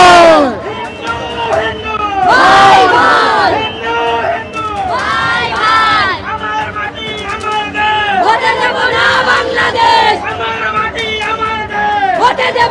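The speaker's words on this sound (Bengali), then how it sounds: "স্লোগান উঠছে গোটা মিছিল জুড়ে" A large Vishva Hindu Parishad protest march over the Pahalgam attack in Kashmir, with many voices chanting slogans in loud rhythmic bursts. The shouting is close and swells and falls over a constant crowd hubbub.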